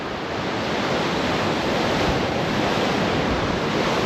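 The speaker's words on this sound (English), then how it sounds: "Sea's a bit rough today." Rough sea waves surge and crash in a steady, loud roar with no pauses, up close and alone.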